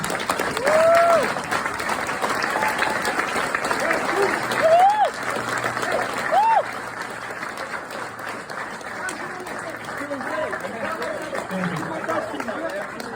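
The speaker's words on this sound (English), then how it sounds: "maybe we give them a round of applause" An audience at a rugby hall of fame induction speech bursts into sustained applause mixed with cheering whoops and crowd chatter, louder in the first half and then settling into steadier clapping.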